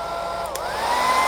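A hair dryer blows steadily and close by, drying a wet stenciled painted canvas for Christmas farmhouse decor; the whine shifts pitch briefly midway as the airflow moves, then holds. No one speaks.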